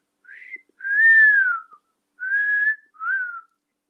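A person whistles a short tune alone: four smooth, clear phrases with brief pauses between them, moderately loud and close.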